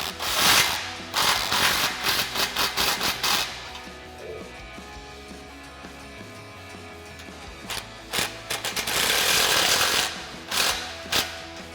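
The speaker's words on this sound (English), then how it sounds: "Now we'll tighten these up with a 15mm socket." A socket ratchet with a 15mm socket snugs up exhaust clamps on an MBRP Armor Plus cat-back exhaust for a Hemi Challenger, giving close bursts of rapid metallic clicking separated by short pauses and quieter handling noises.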